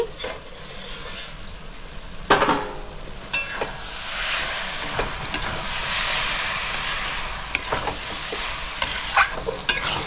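Shredded cabbage stirred and frying in a pan for a fish-head cabbage dish, a steady close sizzle with scraping spoon strokes and sharper clatters now and then, no voices.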